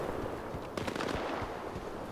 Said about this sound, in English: Wait, they're firing at me.